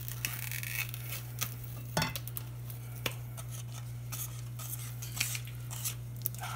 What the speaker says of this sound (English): once this comes to a rolling boil, you're gonna need to stir it constantly